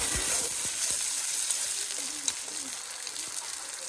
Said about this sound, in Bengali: তেলের মধ্যে চিংড়ি মাছ ছেড়ে দিছে